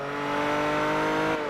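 A car engine revs in the racing video game Forza Horizon, a loud, steady, tonal drone that holds for about a second and a half before dipping slightly near the end, with no voices.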